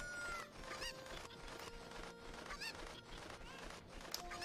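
A cucco chicken in Ocarina of Time lets out a run of squawking clucks over game background music, with repeated sharp calls spaced unevenly through the stretch.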